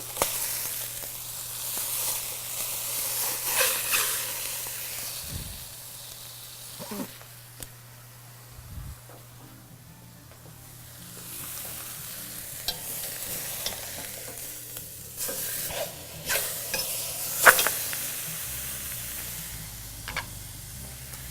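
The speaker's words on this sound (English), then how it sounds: "We're going to turn the ham over, sear it on the other side." A salt-and-pepper crusted ham sears in a hot pan and gets flipped, a soft steady sizzle with intermittent scrapes and clunks of turning, plus a low hum in the background.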